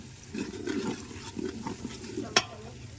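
Water pours into a cooking pot while rasiya rice is being prepared in a Jamnagar kitchen, giving a steady splashing and gurgling for about three seconds with a brief sharp clink near the end.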